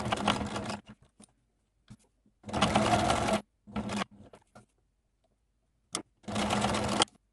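A sewing machine stitches fabric pieces right sides together with a 1 cm seam allowance while making patch pockets. It runs in three steady bursts of rapid stitching, separated by quiet pauses and a few small clicks, with no talking.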